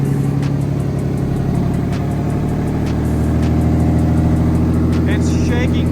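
A turbo-swapped car engine idles steadily in a garage after its first start, a loud, close, continuous rumble with a slight rise in intensity toward the end.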